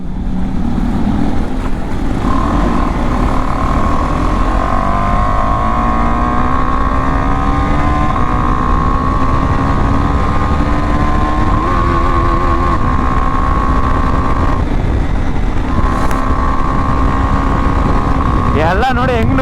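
Motorcycle engine fitted with a quick shifter and auto blipper, droning steadily and loudly with rising gear tones and brief shift breaks, under wind noise during a morning ride.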